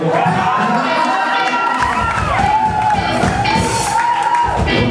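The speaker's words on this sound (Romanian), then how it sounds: "mai multe aplauze, vă rog." A bistro crowd at a live music show cheers loudly and keeps it up throughout, whoops and shouts rising over a dense crowd noise, with a sustained voice-like tone weaving through.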